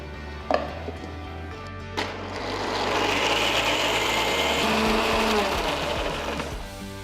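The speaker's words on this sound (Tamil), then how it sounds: "தோல் எடுத்த பாதாமை ஒரு மிக்சர் ஜாருக்கு மாற்றி கொஞ்சம் பால் ஊற்றி ஸ்மூத்தான பேஸ்ட்டாக அரைச்சி எடுத்துக்கலாம்" A mixer grinder blending soaked, peeled almonds with milk into a paste; a couple of clicks, then the motor spins up into a steady whirring grind that continues to the end.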